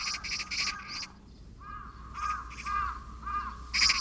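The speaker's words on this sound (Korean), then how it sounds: "인간의 거주지가 확대되는 도시화 속에서 사람을 따라 서식하는 도시성 조류가 된 것은 까마귀" An urban crow near a city landfill gives a series of loud, harsh caws in quick bursts, close and rhythmic, with brief pauses between them and no voices.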